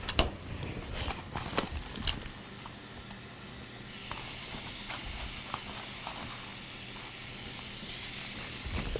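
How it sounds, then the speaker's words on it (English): Ground beef browning in a pan for a Mexican lasagna, a soft steady hiss and sizzle with scattered clicks and knocks of handling, fairly quiet and with no voice over it. "So we'll go ahead and saute some beef up, or brown the beef thing."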